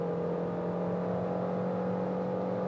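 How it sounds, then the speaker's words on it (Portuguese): Steady, droning engine note from a Fiat Pulse Drive 1.3 naturally aspirated engine with CVT automatic, held at high revs under full acceleration, heard from inside the car as a constant loud hum with no talk. "Você vê que o giro já vai lá em cima, né?"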